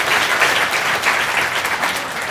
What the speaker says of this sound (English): And you guys can clap.